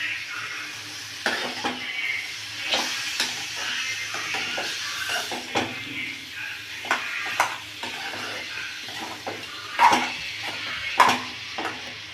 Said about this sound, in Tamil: காடை எடுத்து இதில் சேர்த்து நல்லா நம்ம தட்டி விட்டுறோமே